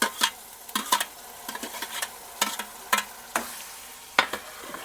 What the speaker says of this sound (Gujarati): ટમેટાને પણ જો આ રીતના મિક્સ કરી વાળવાના છે।